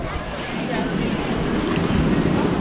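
Ocean waves and surf on a Hawaiian beach roll and wash steadily in a broad, continuous roar, with wind buffeting the microphone throughout and no clear voices.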